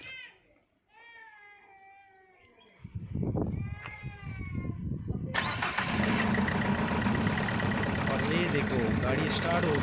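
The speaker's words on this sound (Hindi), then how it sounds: "गाड़ी स्टार्ट हो गई एक झटके में।" A Renault Duster's engine cranks briefly and catches, then settles into a loud, steady idle with heavy knocking and vibration; voices and bleating animals are audible before it starts.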